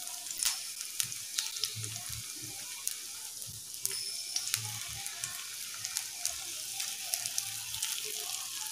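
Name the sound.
battered bread pieces frying on medium flame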